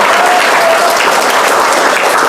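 Dense, loud crowd applause at an Islamic gathering, greeting an introduced Tasikmalaya Nahdlatul Ulama cleric and pesantren leader, continuous throughout the short burst.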